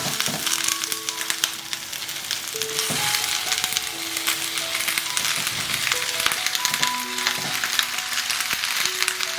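Pork neck bones and vegetables stir-fried in oil inside a clay pot, a steady close sizzle with repeated scraping and clattering stir strokes throughout, no talking.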